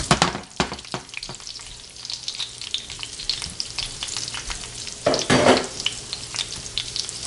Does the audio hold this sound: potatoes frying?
yes